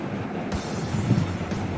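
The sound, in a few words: train running on tracks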